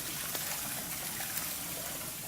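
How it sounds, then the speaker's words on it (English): A toilet in a Spanish home runs water in a steady, rushing trickle and gurgle, heard close by and without talk, as it flushes and refills. "Flush the toilet."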